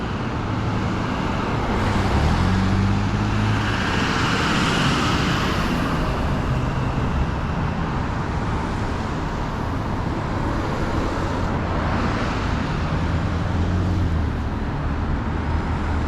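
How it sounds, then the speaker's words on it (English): Continuous road traffic rumbles past close by on a street with a bike lane, cars swelling and fading as they pass, heard alone without talk. "I got to wait for these cars to go by."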